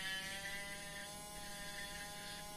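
Electric nail sander running steadily at close range, a continuous high-pitched motorized whine with a buzzing edge, unbroken for the whole stretch and fairly quiet.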